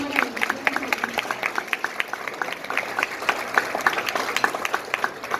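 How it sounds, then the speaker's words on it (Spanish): A conference audience gives lighter, sparser applause, individual claps audible within the crowd, with a faint voice underneath. "Brindémosle entonces un cálido aplauso de agradecimiento por esta maravillosa."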